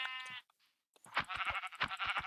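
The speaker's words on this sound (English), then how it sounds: "There's some killable sheep." Sheep in the Minecraft video game bleat in short wavering calls, a couple of quiet bleats with a pause between, no talking.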